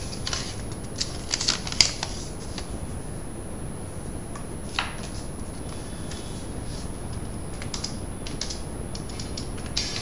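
Keys clattering on a computer keyboard while an Aadhaar card number is entered, a steady run of soft, close clicks with a few sharper taps, no voices.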